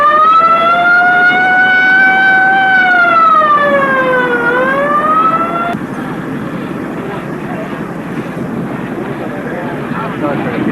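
Ambulance siren wailing loudly and close after a crash at a Top Fuel drag racing championship, a rising and falling tone that cuts off partway, leaving crowd and engine noise.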